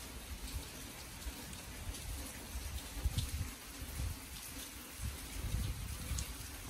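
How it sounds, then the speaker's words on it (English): Steady rain and gusting wind from Tropical Storm Beta on an outdoor wedding morning, a continuous soft hiss of falling drops with low rumbling wind buffets throughout, no voices. "So it's raining."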